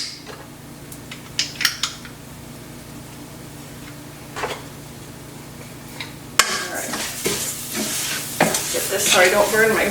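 Store-bought minced onion and garlic fry in a pan with a continuous sizzle, while a utensil stirs and scrapes against the cookware in sharp bursts, the clatter getting busier near the end.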